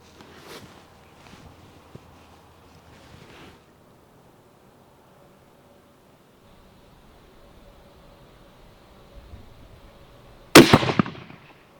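Sharp rifle report near the end, fired at a target from a homemade scrap-wood shooting bench outdoors; one loud close blast with a short ringing tail after a long quiet stretch with faint handling noises.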